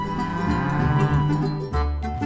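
Simmental and Hereford cows moo loudly and up close, a long drawn-out low call followed almost at once by a second deep moo, with no talking.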